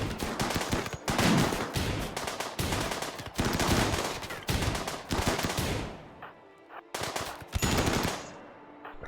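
Dense bursts of automatic gunfire in the colony-building game RimWorld, with loud rapid rattling volleys that go on almost without a break, stop briefly, then return.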